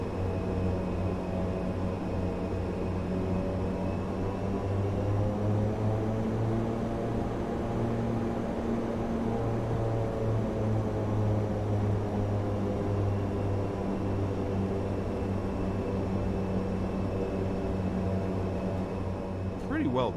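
Cockpit of an ATR 72-600 turboprop airliner in Microsoft Flight Simulator: a steady, droning engine hum with a faint high whine, continuous and even for the whole stretch.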